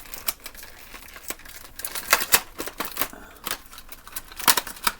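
Tape and cardboard packaging of a Zuru Mini Brands box being pulled and torn open, a run of sharp crinkling, ripping and tapping bursts at close range, loudest in the middle and near the end, with no talking.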